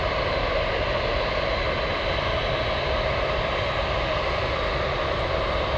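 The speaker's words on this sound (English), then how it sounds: "Big 747 about to cross runway 33." A Boeing 747 taxis at Anchorage airport toward a runway crossing, its engines a constant loud broadband roar and hiss that holds steady and near, with no voices.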